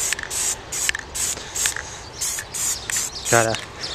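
A Plasti Dip aerosol can spraying onto a Jeep grill, sputtering in short repeated hissy bursts rather than an even spray, close by, with a brief voiced sound near the end.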